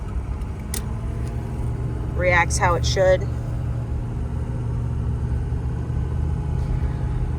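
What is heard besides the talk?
2006 Ford F250 Powerstroke diesel truck engine running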